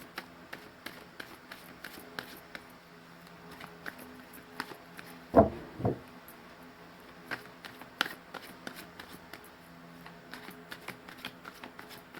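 Tarot cards being shuffled by hand at a tarot reading, a steady run of soft riffling clicks and taps with one louder burst of handling in the middle, close and fairly quiet, with no talking.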